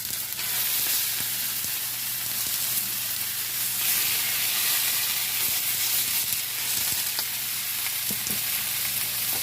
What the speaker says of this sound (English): A good sizzle when you throw it on there.